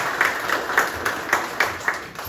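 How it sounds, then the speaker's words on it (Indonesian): Audience applause for an honoured guest at a visit to Vihara Bodhisitala, a Buddhist temple in Siborongborong, North Sumatra: a short, fairly sparse burst of clapping with distinct rhythmic peaks, close and moderately loud, no voices. "kita beri tepuk tangan untuk Bapak"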